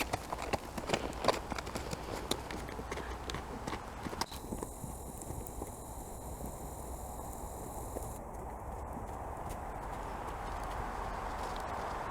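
A horse trotting, its hoofbeats clopping in a steady rhythm at moderate distance, with a faint background hum that shifts partway through.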